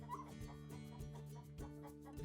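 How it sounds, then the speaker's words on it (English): Laying hens in a farm chicken coop of about 200 birds, with soft, faint clucking and low murmuring calls, some repeated at a loose rhythm. "We have about 200 laying hens in here."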